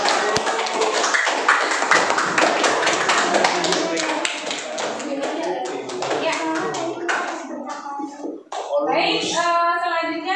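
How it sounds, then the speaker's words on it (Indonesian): A class of children claps together in a dense, quick burst of applause that gradually thins out, followed by a voice speaking. "Ya, kita kasih aplaus dong buat kita semua ya"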